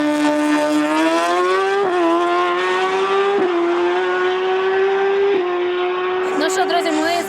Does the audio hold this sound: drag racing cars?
yes